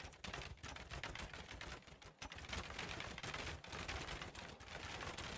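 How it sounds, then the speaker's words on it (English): Archers loose volleys of arrows in a video game battle against shieldless infantry, a dense, rapid, continuous clatter of loud sharp impacts with only brief lulls. "the archers have started to fire"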